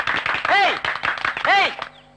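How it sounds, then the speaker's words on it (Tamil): College students clap in a hall, a quick scattered patter of hands heard under voices. "கருத்து என்னன்னு தெரியாமே கைத்தட்டீங்களேடா"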